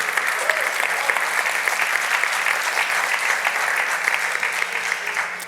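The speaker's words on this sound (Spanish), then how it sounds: "Dan un aplauso al Señor por ello." Congregation applauding in church during a Sunday morning sermon, a steady, full wash of many hands clapping at even loudness throughout, fading slightly at the close.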